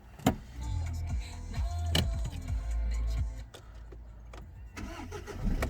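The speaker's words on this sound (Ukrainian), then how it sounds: "Автомобіль заводиться з півоборота, працює рівно, стабільно, справно." A 263,000 km Skoda Octavia A7 starts on the first turn of the key, the starter's crank quickly catching into a steady, even idle heard close up, with a few clicks and thumps around it and no voices.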